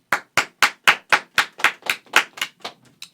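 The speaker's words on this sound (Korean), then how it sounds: "짝짝짝 박수치라고 박수해 빨리." Hands clapping about a dozen times in an even, brisk rhythm, close and crisp, fading slightly toward the end, with no one talking over it.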